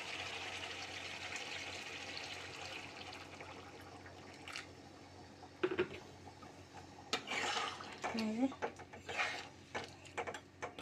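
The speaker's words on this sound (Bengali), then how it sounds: "আমি এবারে উষ্ণ জল, গরম জল আমি এখানে দিয়ে দেবো" Hot water is poured into a pot of simmering chicken curry, rising into a bright splashing gush in the latter half after a quieter stretch of kitchen background.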